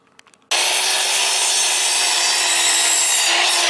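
Wood being cut for geometric table legs, a loud, steady saw grinding through the board after a short quiet start, continuous and close with no voices.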